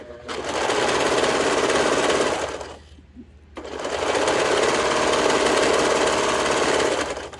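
A sewing machine runs fast, stitching a seam on bell-bottom trousers in a continuous loud whirring burst, stops briefly, then resumes at the same steady pace.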